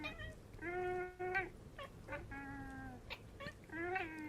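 Close, quiet meowing from a cat: a string of drawn-out, wavering calls broken by short chirps and one sharp click, with no voices over it.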